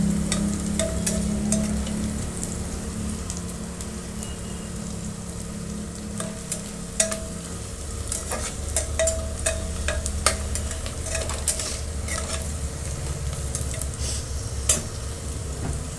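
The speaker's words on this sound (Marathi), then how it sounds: "छान आपण छान परतून घेणार आहे कांदा गोल्डन करत येईपर्यंत" Onion frying in oil toward golden brown while being stirred, a steady close sizzle broken by repeated scrapes and clicks of a spatula against the pan, with no talk.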